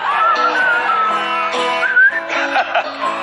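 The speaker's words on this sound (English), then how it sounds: "Everyone can whistle it." A crowd of TV studio audience members whistles an advertising jingle together on a live talk show, a loud, steady, slightly wavering massed melody with some clapping or movement near the end.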